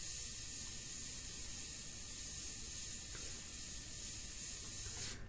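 An airbrush sprays India ink in a steady, unbroken hiss lasting several seconds before cutting off abruptly at the end.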